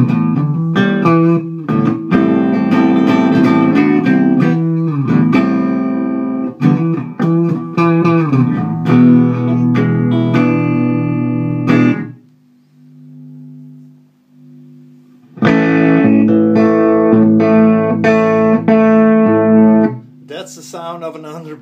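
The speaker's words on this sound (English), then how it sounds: "That's the sound of an underbiased amp." Fender Champ 5F1 tube guitar amp with underbiased, too-cold output tube, played as sustained distorted guitar chords and notes, loud and close, with a brief quieter passage of a few soft notes before strumming resumes.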